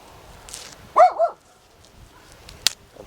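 A dog barks in the distance on a farm beside a patch of poorly pollinated corn, giving a short double bark that is moderately clear against quiet outdoor background.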